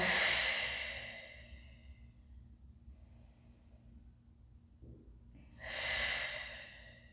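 Deep, slow breaths drawn during a Pilates stretch while the spine rounds, heard as two long, close airy exhales at the start and the end with near quiet between them and no talk.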